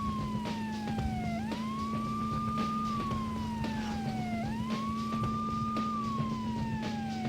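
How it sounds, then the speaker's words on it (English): A video game police car siren wails up and down in slow repeating sweeps, steady and moderately loud, over a constant engine-like drone with no voices. "When he's using the siren, the other cars will stop."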